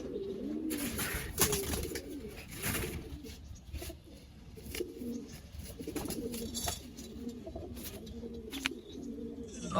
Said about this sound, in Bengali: এই নর কবুতরটা দেখাই নর কবুতরটা খুবই ভালো কবুতর সেটাও দেখাই